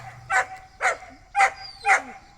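A dog barks four times in a steady rhythm, close and fairly loud, with brief pauses between barks.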